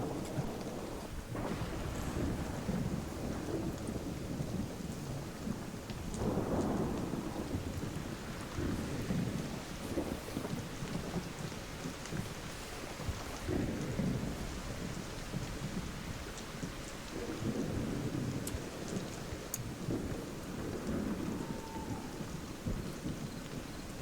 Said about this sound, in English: Where did that lightning hit? Top of the stinking tree?